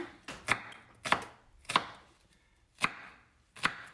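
A knife chops through an onion on a cutting board in five separate, sharp strikes with short pauses between them, close up and without voices.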